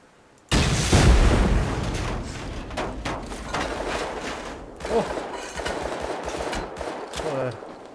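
Explosions in the video game Rust during a raid with rockets, a sudden loud blast followed by continuous rumbling booms and crackling bursts throughout, dense and close.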